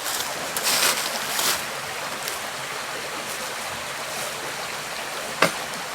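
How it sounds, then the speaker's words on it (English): Steady broadband rush of a flowing stream beside an old colliery railroad bed in the Wyoming Valley, continuous and fairly close, with a brief sharp knock near the end. "Yeah, you hear the water flow?"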